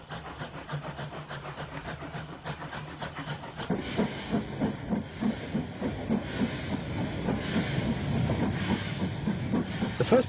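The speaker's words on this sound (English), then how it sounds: "A former London Brighton South Coast Railway 464 tank, number B327, leaves the station with the 2 o'clock Saturdays only for Brighton" Former London Brighton South Coast Railway 464 tank steam locomotive B327 pulls out of London Bridge with a Saturday train for Brighton, a steady hiss of steam with rhythmic chuffs that grow louder and busier as it gets under way, no talk.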